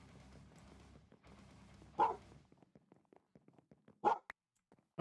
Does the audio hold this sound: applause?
no